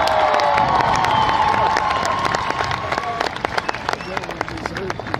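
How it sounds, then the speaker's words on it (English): A high school graduation commencement crowd applauds and cheers for the class of 2018, loud sustained clapping mixed with shouts that gradually thin out toward the end. "Let's give the class of 2018 a nice round of applause."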